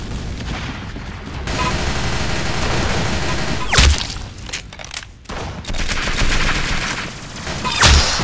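Gunfire in the Roblox-style shooter game Arsenal: loud rapid bursts of shots with short gaps and two heavier booming impacts, alone without talk.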